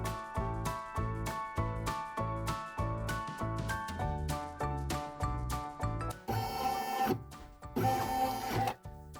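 An embroidery machine sews a tack-down stitch on an in-the-hoop applique wall hanging, a fast rhythmic mechanical chatter of needle strokes, close and steady, with a brief denser whir near the end.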